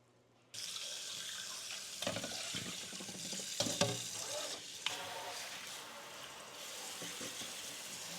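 Ground beef hits a hot pan and keeps up a steady, broad sizzle and crackle over several seconds, with a few louder spits and stirring bumps along the way.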